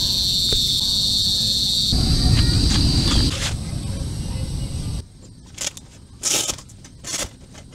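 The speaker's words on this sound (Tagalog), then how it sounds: "May maingay na insekto." Loud insects chirp in a dense, continuous buzz outdoors at a hilltop campsite, then stop abruptly, leaving a few scattered clicks and faint crackles.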